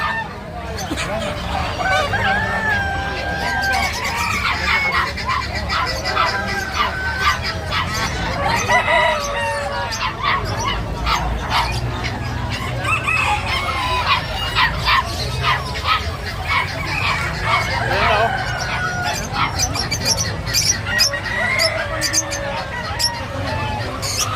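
Roosters crow repeatedly amid a crowd of clucking native chickens, with a dog barking now and then and people talking in the background.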